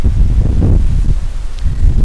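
Low, rumbling wind buffeting the microphone in steady gusts, with a faint rustle.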